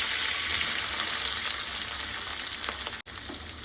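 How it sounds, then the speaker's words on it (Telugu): Green chillies, curry leaves, chopped coriander and broken dried red chillies fry in hot oil for an aloo kurma, giving a steady, close, loud sizzle with no talking over it. "ఇవన్నీ మంచిగా ఫ్రై చేసుకున్నాం."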